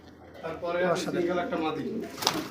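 Rajgolla pigeons coo softly at close range in a loft, their low throaty calls mixed under someone talking.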